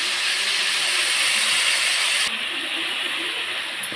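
Onions sauté in a pan with curry leaves, giving a loud, steady, hissing sizzle close by. The sizzle drops abruptly to a quieter hiss about halfway through, with no one speaking.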